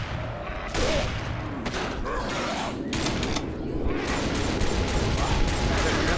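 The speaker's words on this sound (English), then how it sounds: "Let me use a shotgun." Shotgun blasts in a chaotic zombie shooter game, several loud booming shots and clattering mechanical noise in quick succession amid dense action din.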